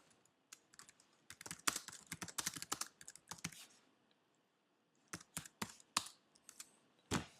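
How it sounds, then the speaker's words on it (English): Close, crisp typing on a computer keyboard comes in quick irregular bursts of key clicks, pausing briefly in the middle before resuming, with no speech. "Of course you could just type directly into this editor."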